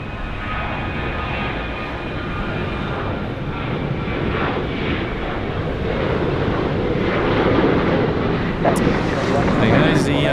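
A Qantas Boeing 737 takes off at Sydney Airport, its jet roar loud and broad and swelling steadily, while a voice talks over the noise.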